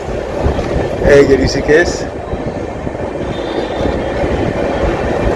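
A long-distance train rolls into Rishikesh station at the foot of the hills, its heavy rumble and wheel clatter continuing with a brief squeal as someone speaks over it.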